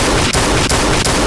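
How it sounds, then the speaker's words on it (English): Three loud, evenly spaced shots from a .50 cal sniper rifle in Garry's Mod, each a sharp crack over constant dense background noise. "I'll just use the 50 cal sniper rifle"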